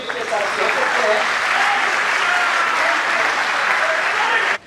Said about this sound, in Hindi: आप सभी तालियां बजा करके उसके साथ कर सकते हैं।